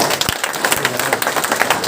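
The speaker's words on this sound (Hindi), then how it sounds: "एक बार जोरदार तालियां।" Seminar audience at a Netsurf product seminar in Bhilwara, Rajasthan, breaking into applause: a short, close burst of many hands clapping, loud and busy, with a few low thumps mixed in.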